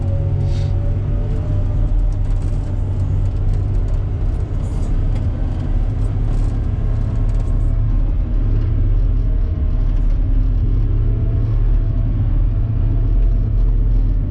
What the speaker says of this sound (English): There's Ricky dropping the load with the hook lift truck.